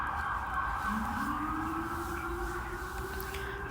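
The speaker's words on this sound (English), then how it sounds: "excuse the sirens." Emergency vehicle sirens sound outside, a steady wailing tone with a second rising tone joining partway through, heard at moderate distance over a constant background hum.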